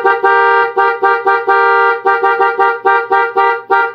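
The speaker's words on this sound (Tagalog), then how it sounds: "pag pinindot natin itong hollow switch mga kamotor, ang tutunog naman is yung ating dual horn" A Bosch EC6 dual horn fitted to a Honda Click 125Fi motorcycle blares in about a dozen short, loud, evenly paced honks, close and alone.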